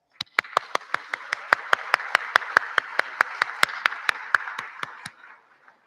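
Applause at an honoring ceremony: sharp, evenly spaced claps ring out about four times a second over a softer wash of crowd clapping, then tail off at the end.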